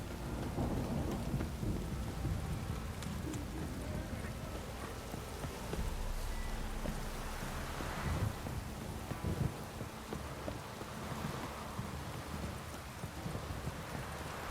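Heavy rain in The Witcher 3: Wild Hunt video game pours steadily in a dense, continuous hiss, with low rumbling underneath and no voices.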